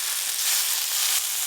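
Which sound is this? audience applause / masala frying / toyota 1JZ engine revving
masala frying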